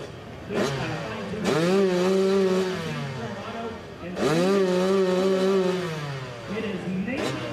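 A Harley-Davidson motorcycle roars up a hill climb course, two loud revving surges with a rising engine note, each dropping back between runs, close and dominant.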